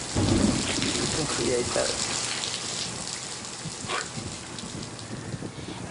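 Heavy rain pours steadily outdoors with rumbling thunder and gusts of wind, a loud continuous wash of drops spattering on surfaces while a voice speaks briefly over the storm.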